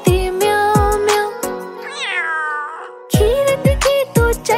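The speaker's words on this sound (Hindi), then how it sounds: "बिल्ली करती म्याऊ म्याऊ" A cat meows repeatedly, loud and close, in a series of drawn-out tonal cries over a simple rhythmic nursery-rhyme backing with sharp percussive beats.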